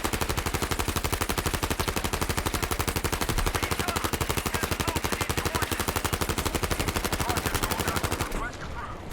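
Relentless rapid automatic gunfire in a competitive video game match, an unbroken loud rattle of evenly spaced shots lasting several seconds before cutting off.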